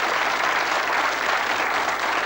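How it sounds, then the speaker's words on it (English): Steady, full studio audience applause at a 1988 celebrity special of the TV game show Catchphrase, dense clapping holding at an even level throughout with no voices on top. "Give them a big round of applause, ladies and gentlemen."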